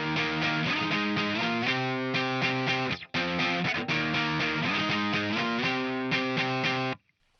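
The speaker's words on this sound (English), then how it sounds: "just add some distortion when it sort of kicks into that more overdriven rock sound." An electric guitar with heavy distortion plays an overdriven rock riff, loud chugging chords in a driving rhythm that stop briefly near the middle, resume, then cut off abruptly at the end.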